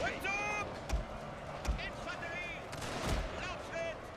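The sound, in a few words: castle firing on troops in a strategy video game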